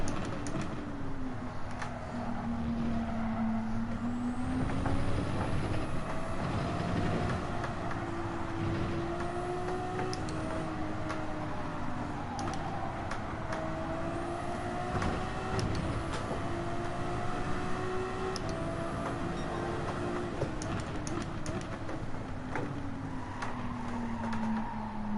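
Racing cars in Gran Turismo 7 on a last lap, a pack of cars ahead: a steady, loud engine drone whose pitch climbs and falls with gear changes, running continuously with no voices.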